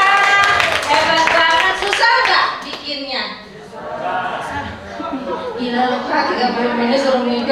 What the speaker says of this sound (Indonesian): Kasih tepuk tangan dong untuk kerjasama yang luar biasa.